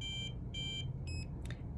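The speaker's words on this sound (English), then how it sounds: "those beeps mean that it's exposing" An XTG X-ray device gives a run of short electronic beeps during exposure, three evenly spaced tones and a fainter fourth, over a steady low hum.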